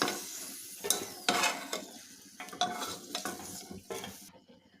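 Ridge gourd and tomato pieces dropped into a little oil in a pan, with spoon-stirring scrapes and clinks over a soft sizzle, in a series of irregular bursts that fade toward the end.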